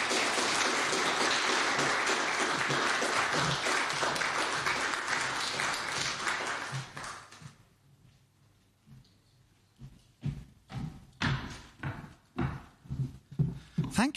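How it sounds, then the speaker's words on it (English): Sustained audience applause fills a hall at the close of a symposium talk on fangs and folklore, dense and steady for about seven seconds before fading into a lull, then scattered louder handling knocks and bumps follow. "Can we have a final round of applause for all our speakers?"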